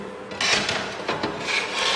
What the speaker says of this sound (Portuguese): Vamos recolocar o vidro.